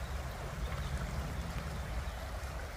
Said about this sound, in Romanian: Îmi place să stau să ascult cum curge apa.